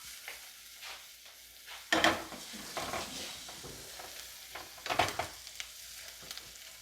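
Onions softening in a hot pan, with a low sizzle under scraping stirs and two louder clattering bursts of a utensil against the pan, close and without talk.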